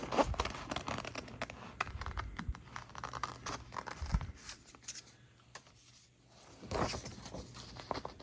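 Scissors trim heat transfer vinyl in a quiet room, a close run of soft snipping and crisp cuts that drop into a near-silent pause before the cutting picks up again.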